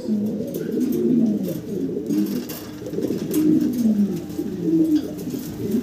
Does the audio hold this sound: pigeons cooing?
yes